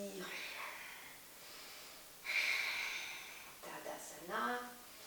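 A long, airy exhale during a yoga session, soft and close, followed by a couple of shorter breathy huffs and a sniff.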